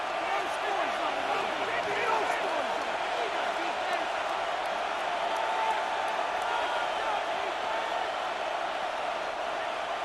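Stadium crowd at a Sunday Night Football game between the Atlanta Falcons and Minnesota Vikings, a steady loud roar of many voices filling the air throughout, with a commentator talking over it.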